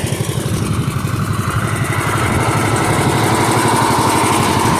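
A Bolens garden tractor's small engine runs steadily nearby after a tractor show, a continuous low, rapid chugging throb that stays level and close throughout with no other sounds.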